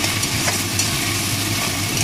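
Ginger, garlic and chili pastes sizzle and fry in a pan for an egg curry while being stirred, a steady close crackle with soft scraping throughout and no talking.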